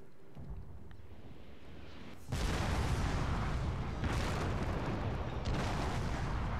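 Artillery firing in the strategy video game Total War: Shogun 2, Fall of the Samurai: a sudden loud boom opens into a sustained rumbling roar with further blasts following.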